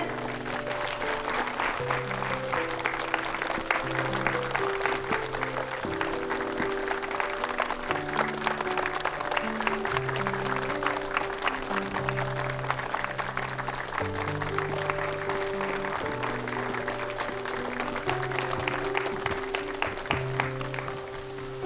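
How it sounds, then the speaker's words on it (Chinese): An audience claps warmly to welcome the spokesman of a Burgundy wine estate to the stage at a formal event. The applause is steady and sustained over background music that plays throughout. "让我们用热烈的掌声欢迎勃艮第名庄凯斯堡的代言人菲利普先生上台致辞"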